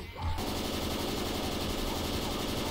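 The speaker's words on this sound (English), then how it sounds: "Explosive bullets away!" Explosive bullets fire from an automatic gun in the Left 4 Dead 2 video game during a carnival-stage co-op match, sounding as a dense, loud, continuous rattle after a brief lead-in.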